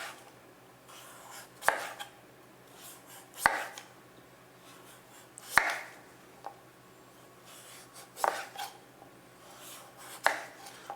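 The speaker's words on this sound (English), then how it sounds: "Take off the rest of that skin on the outside." A knife slices the tough outer skin off a large butternut squash being prepared for roasted soup, giving several sharp, separate cuts about two seconds apart, each a crisp scrape with soft rustling between.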